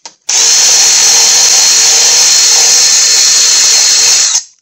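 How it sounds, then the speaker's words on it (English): An old, dull carbide bit spins in a power drill, grinding corrosion out of the front wheel bearing area of a 2008 Buick Lucerne, a loud, steady, high-pitched whine held for about four seconds. "I'm just getting the corrosion out of there."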